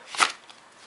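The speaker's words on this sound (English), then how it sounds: "It riffle shuffles" A single brief riffle shuffle of a Bee Erdnase Acorn Back Club Special playing card deck makes a soft, quick, papery flutter. It sounds close, lasts under half a second and fades at once.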